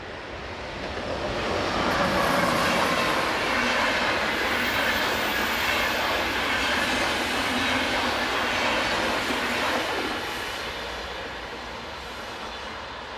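Train led by locomotive 101107 passing through the Rhine Gorge, a steady broadband rumble and rail clatter that swells in, holds loud for several seconds, then fades as it moves away.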